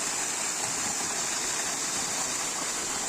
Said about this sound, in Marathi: हा तळ्यावरचा धबधबा पाठी पडणारा पाणी.